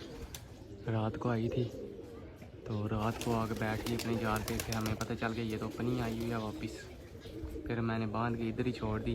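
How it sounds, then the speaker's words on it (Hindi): Pigeons coo softly and repeatedly in the background while someone talks over them almost without pause. "साथ में कबूतर बोल रहा है"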